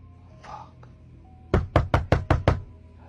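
A run of six or seven loud, evenly spaced knocks on wood or a door, recorded during a paranormal ghost investigation, coming after a stretch of faint room noise and a brief muffled sound.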